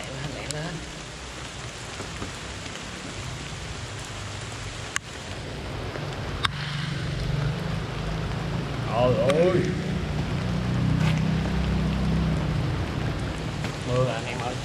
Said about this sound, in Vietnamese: Trời ơi mưa tới luôn rồi.